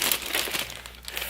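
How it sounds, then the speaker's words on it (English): Paper pack for junk journaling being opened, crisp close crinkling and rustling of paper sheets in a continuous burst, with no talking. "So I'm going to open it for y'all and use some of the stuff that's in this paper pack."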